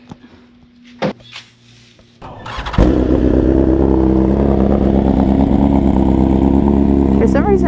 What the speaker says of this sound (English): my bike won't start unless it's in neutral